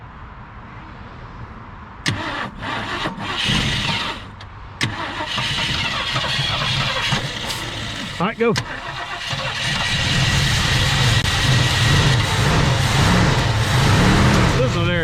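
A 1965 Mercury Montclair engine cranks in stuttering bursts, then catches and settles into a rough, rumbling idle that grows steadier, while people talk nearby.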